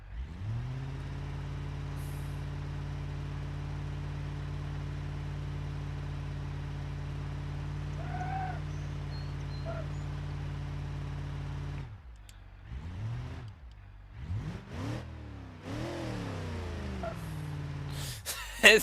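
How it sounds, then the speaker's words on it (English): A truck engine in BeamNG.Drive holds a steady, loud high-revving drone while trying for a burnout, then drops off and surges through several rising and falling revs near the end. "This truck won't even do a burnout."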